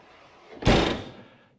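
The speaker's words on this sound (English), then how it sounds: "The door of the Convotherm Max is equipped with the practical slam door function" A Convotherm maxx combi oven door with a slam-door function is slammed shut once. The closing gives a single loud, close thud with a short swell and decay, and there is no talk.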